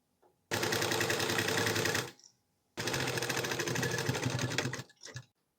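A sewing machine stitches a kitchen apron in two long continuous bursts of rapid needle clatter, close and loud, separated by a brief pause.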